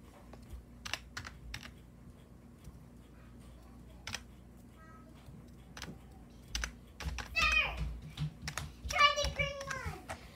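Computer keyboard keys tapped in short irregular bursts while entering a password, clicks close and fairly crisp, with a voice chattering over the later part.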